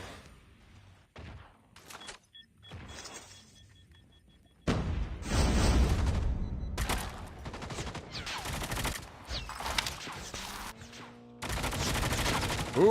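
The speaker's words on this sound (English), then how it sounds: "So FG seems to be shooting as well." Rapid bursts of gunfire ring out in a Call of Duty: Mobile match, sharp repeated shots in clusters with quiet gaps, turning into heavier sustained fire in the second half.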